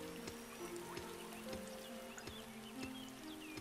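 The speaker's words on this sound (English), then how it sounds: "it's raining in the game" Rain falling in the Starbound video game, a steady soft patter of drops with faint trickling, continuous and even throughout, with a sustained in-game music tone underneath.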